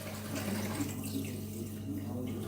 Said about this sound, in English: Washing his face in the sink.